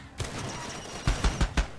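Several sharp bursts of gunfire in the PC video game Far Cry 2, a single shot followed by a quick cluster of four shots, over a low background hum.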